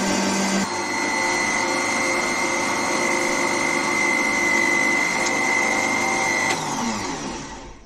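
A kitchen blender whirs steadily while blending chopped watermelon with crushed ice, black salt and sugar for juice, a loud continuous motor drone with a high whine that winds down at the end.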